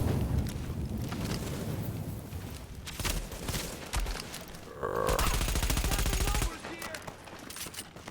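Rapid rifle gunfire from the video game The Division, sustained bursts with a loud stretch of continuous automatic fire in the middle, amid dense game noise and ambient effects.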